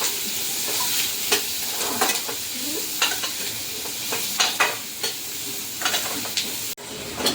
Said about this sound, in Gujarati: એક ડુંગળી નાખી દઈશું અને હવે થોડીક વાર સળવા દઈશું.